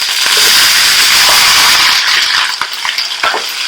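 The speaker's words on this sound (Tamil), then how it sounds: "நம்ம பச்சை மிளகாய் போட்டுக்கலாங்க. கருவேப்பிலை போட்டுக்கலாங்க. வெங்காயம் போட்டுக்கலாங்க." Green chillies, curry leaves and onions hit hot oil for moong dal sambar, giving a loud, close, continuous sizzle and crackle that eases slightly as a few stirring clicks come through.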